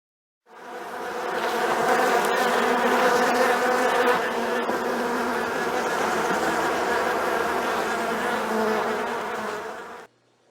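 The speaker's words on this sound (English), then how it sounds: "Can you find the bee?" A bee buzzes steadily and close for about ten seconds, a continuous droning hum with a slightly wavering pitch, heard alone on a farm with no other sounds.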